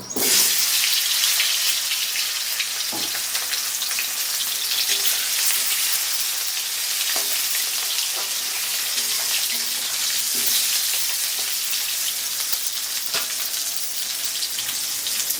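Diced potatoes hit hot oil in a pan for a home-style Bengali egg and potato curry, giving a loud, continuous sizzle and crackle, with occasional stirring clicks and no talk.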